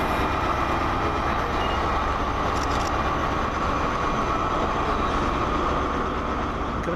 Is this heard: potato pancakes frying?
no